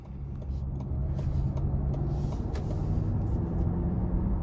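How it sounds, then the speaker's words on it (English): A 2023 Lincoln Nautilus Reserve SUV driving on the road, heard as a steady, loud low rumble of road and engine noise inside the cabin, continuous throughout with faint intermittent clicks above it. "now it's time to go ahead and take this Lincoln Nautilus out on the road for a quick test drive"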